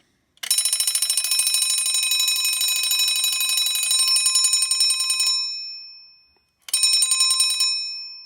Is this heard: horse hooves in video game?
no